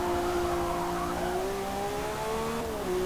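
A Lamborghini Revuelto's naturally aspirated V12 in Forza Motorsport holds a steady, loud drone with clear rising and falling harmonic pitch, close and continuous, with a faint tire squeal edge and no speech.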